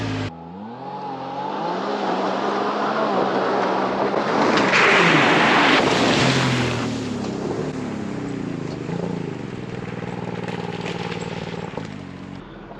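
A car driven fast through deep water on a camping trip in Montana, its engine droning and revving under a loud rushing surge of spray that peaks midway and then settles.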